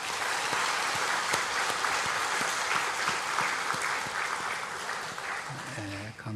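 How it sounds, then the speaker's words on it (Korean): A church congregation at a Christmas service applauds its choir after a Hallelujah performance, with sustained clapping and crowd noise; a voice starts speaking near the end as the clapping fades. "박수 한번 보냅시다."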